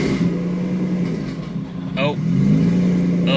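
A Nissan GT-R engine revs through a tune running green flames, its tone climbing and dropping at mid pitch, then settling into a loud steady drone, with a voice over it.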